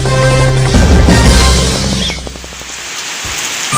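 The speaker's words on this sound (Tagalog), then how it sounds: "Barangay Supong Bayog Sambuanga Resort ay inula ng malakas na ulan at hangin" Heavy rain and strong wind at a resort in Barangay Supon, Bayog, Zamboanga del Sur, a dense roaring wash of noise that is loud at first, then eases toward the end.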